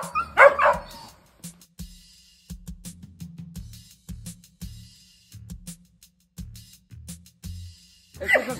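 Dogs being herded with a Border Collie let out a few sharp barks and yips, then a string of short muffled thumps and scuffles, with another bark at the end.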